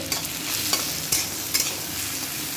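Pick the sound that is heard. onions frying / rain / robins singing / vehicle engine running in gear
onions frying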